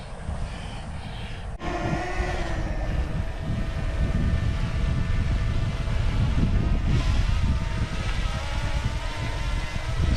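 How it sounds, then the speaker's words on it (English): A camera drone starts up abruptly and holds a steady, loud, close whine with tonal buzzing throughout, beside a river during a kayaking outing. "There's Magnus about to launch the drone for a shot"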